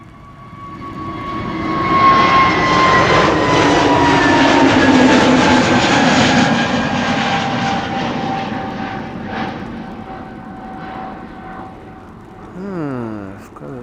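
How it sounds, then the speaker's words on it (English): An EasyJet Airbus A320neo jet departs from Polderbaan runway 36L at Amsterdam Schiphol during rain showers, its loud engine roar swelling as it passes close by and then slowly fading into the distance. "EasyJet flight 27843 to Birmingham, A320neo."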